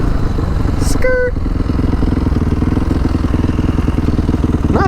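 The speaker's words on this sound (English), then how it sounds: "Why is my bike not going into a different gear?" A motorcycle engine chugs and revs steadily close by during a ride, with a short clunk of a gear shift and a brief mechanical squeak over the running engine.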